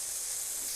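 Sliced ridge gourd sizzles in a hot pan for a mashed bhorta, a steady close hiss of frying that holds evenly from start to finish without any voices.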